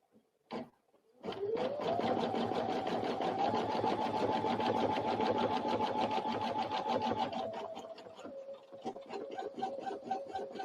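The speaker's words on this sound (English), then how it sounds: "And now I'm going to stitch back over those stitches, and then I'll trim off these excess threads." An embroidery sewing machine stitches back over earlier stitches: after a couple of short clicks it starts into a loud, steady, rapid needle chatter with a motor whine, then settles into a slower rhythm near the end.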